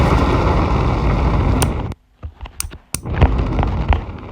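Video game bombs detonate as a dense wash of crackling blasts, with a sudden hush in the middle broken by a few sharp separate bangs before the loud barrage resumes.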